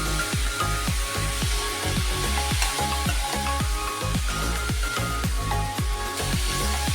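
Tomatoes added to onions and masala sizzle and fry in a pan for a curry, a steady close hiss with repeated soft scrapes and knocks of stirring, no talk.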